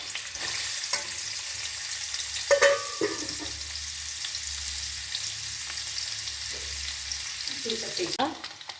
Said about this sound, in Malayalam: നമ്മുടെ തേങ്ങാക്കൊത്തിനെ മുരിച്ചെടുക്കാം കേട്ടോ